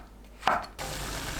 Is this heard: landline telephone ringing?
no